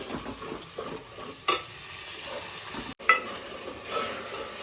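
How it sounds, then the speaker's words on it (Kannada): Ground onion, ginger, garlic and coriander fry in a pan under a soft, steady sizzle, broken by a couple of sharp utensil scrapes near the middle, fairly quiet with no talking. "ರುಬ್ಬಿಟ್ಕೊಂಡಿದ್ದ ಈರುಳ್ಳಿ, ಶುಂಠಿ, ಬೆಳ್ಳುಳ್ಳಿ, ಸ್ವಲ್ಪ ಕೊತ್ತಂಬರಿ ಅದನ್ನು ಹಾಕ್ಕೊಂಡು ಹುರ್ಕೊಳ್ಳೋಣ."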